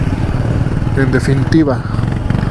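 A Royal Enfield Scram 411 motorcycle on a test ride, its engine rumbling steadily and loud close by, with someone speaking over it briefly.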